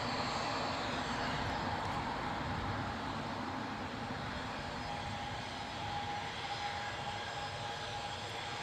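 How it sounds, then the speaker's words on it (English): A Boeing 737 departs Newcastle for Tenerife, its jet engines a steady, distant roar with a thin high whine, sustained and unbroken with no talk. "737, departing to Tenerife"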